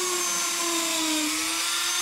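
A Dremel flex shaft rotary tool carves a wood spirit face, a steady high-pitched whine with a constant grinding hiss, close and continuous throughout, with no voices.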